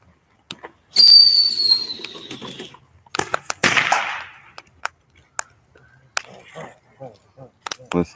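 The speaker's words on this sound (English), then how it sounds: "Whistle chaser." A whistle chaser firework at an Independence Day party shrieks with a high descending whistle, then a burst of crackles, followed by scattered pops and bangs with some voices in between.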